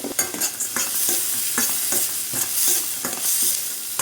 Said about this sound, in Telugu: ఒక స్పూను గుమ్మడి గింజలు, ఒక స్పూను కర్బూజా గింజలు, ఇవన్నిటిని కూడా బాగా ఫ్రై చేసుకోవాలన్నమాట